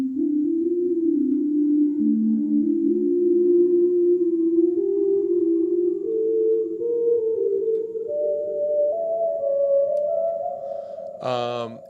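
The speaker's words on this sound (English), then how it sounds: "And I think that the flute sound on it is incredible." Sustained flute patch from a hardware synthesizer playing long held notes that slowly step upward in pitch with a soft reverb tail, ending in a brief burst of warbling vibrato.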